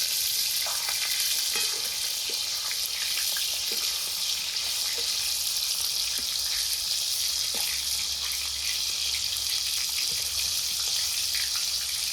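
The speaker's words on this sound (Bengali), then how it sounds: "মাছগুলো ভাজা হতে হতে এদিকে মশলাটা বেটে নিই।" Pieces of katla fish, belly and back cuts, fry in hot oil, giving a steady, dense sizzle with small crackles that carries on evenly and close throughout.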